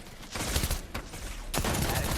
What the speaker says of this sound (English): waiting until it hears some gunshots and then goes down and cleans it up